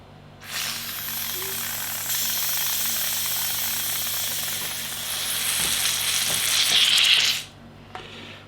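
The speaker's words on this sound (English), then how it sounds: "A little bit more of that carbonation easing out." Carbonation gas hisses out of a beer keg: a steady hiss rises and continues for several seconds before cutting off abruptly, with a low machine hum in the background.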